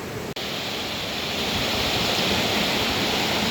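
A fast-flowing waterfall roars as a steady, loud, broad rush of water that fills the whole clip after a brief dip near the start, with no voices over it.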